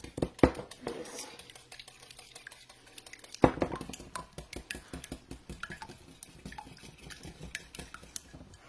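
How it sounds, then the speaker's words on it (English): A whisk beats eggs for a quiche in a bowl, a quick, irregular clatter and tapping of metal against the dish, close and fairly quiet, with a couple of sharper knocks. "I'm going to whisk my eggs together"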